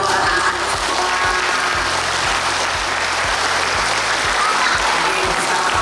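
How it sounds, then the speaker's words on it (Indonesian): Sustained applause for school children of a people's school in Semarang fills the space, a dense, steady clatter of many hands clapping together throughout, with a faint voice underneath. "Tepuk tangan untuk anak-anak sekolah."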